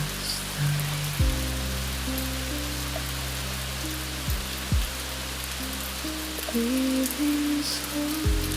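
Steady, soft rain patters across surfaces in a dense, even hiss, with low sustained musical tones and gliding notes drifting underneath throughout.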